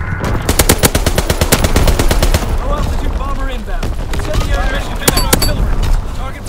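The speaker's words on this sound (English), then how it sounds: "Fighter pilot ready for strafing run." Rapid bursts of machine-gun fire from a fighter plane's strafing run in the World War II shooter Call of Duty: WWII, loud stuttering volleys in the first half, then scattered shots under game voice lines.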